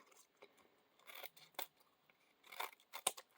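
Scissors trimming a thin strip of plastic while making a junk journal: a few separate quiet snips and crinkly cuts, close up, spaced unevenly over a few seconds with no voices.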